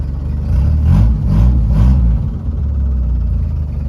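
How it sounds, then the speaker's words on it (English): Engine of a 1961 International Travelall ambulance idling with a rough, diesel-like clatter, a loud steady low rumble throughout with a few slight swells, no talking. "Thing sounds like a diesel."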